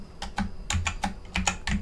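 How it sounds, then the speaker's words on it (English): Loud typing on a mechanical keyboard: close, clacky keystrokes arriving in irregular bursts with short pauses, with no voices over them. "sorry for the loud typing, guys. I have a mechanical keyboard."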